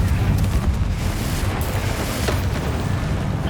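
Bombarda and Confringo spell explosions in Hogwarts Legacy, heavy booming blasts that keep rumbling in a continuous loud wash with no clear gaps.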